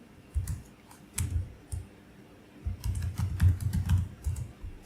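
Someone types a Wi-Fi password on a computer keyboard in short bursts of close, crisp key clicks, with brief pauses between runs of keystrokes.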